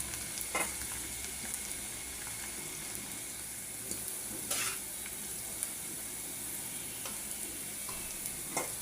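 Jute leaves frying in a pan with onion, chili and salt, stirred with a spatula: a steady close sizzle broken by occasional scraping clinks of the utensil against the pan.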